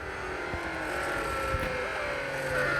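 A Bugatti Divo races in a driving video game, its engine droning steadily and rising slightly in pitch as it accelerates, a continuous loud hum with no talk.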